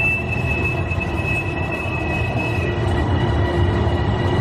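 A train moving through a Bangkok station on the line to Suvarnabhumi, with a steady, loud rumble of rolling wheels and a thin, high, sustained squeal from the rails running throughout.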